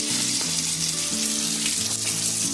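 Bombil fish fry steadily in hot oil coated with a green masala of garlic and ginger, a dense, continuous sizzle close by with no talking.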